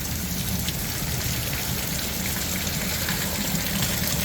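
Waterfall on the Truckee River along the downtown Reno Riverwalk, a steady broadband rush of falling water that stays loud and unbroken throughout, with no voices.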